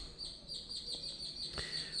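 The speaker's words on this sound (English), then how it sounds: "here's my birds are chirping. Many birds here in the mornings" Morning birds chirp outdoors in a faint, distant chorus of thin repeated high tweets that runs steadily throughout, with no one speaking.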